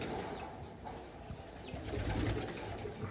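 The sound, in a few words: pigeons cooing and flapping in a loft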